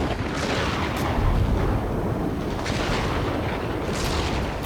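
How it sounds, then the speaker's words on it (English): A missile hits an aircraft during an Ace Combat 7 dogfight, heard as a loud, unbroken rumbling roar of explosions and engine noise with a few brighter bursts and no talk. "Strider 2 struck by a missile!"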